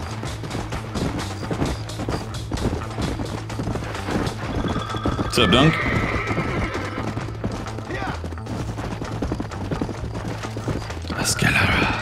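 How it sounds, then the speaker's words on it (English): Horses in the Red Dead Redemption video game whinny loudly and clip-clop at a steady trotting rhythm, with gunfire-like bursts scattered through, under a voice speaking briefly. "Rustling horses, yeah."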